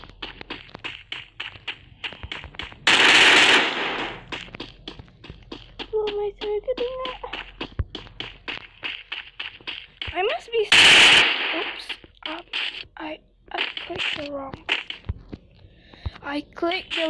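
Gunfire in the Free Fire video game: scattered rapid shots and short bursts with two louder blasts, heard under frequent talking.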